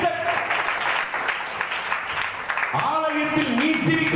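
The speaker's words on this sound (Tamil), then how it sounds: "கைதட்டு." A congregation at a Diwali special church meeting claps along in a loud, dense patter of hands, and voices rise over the clapping toward the end.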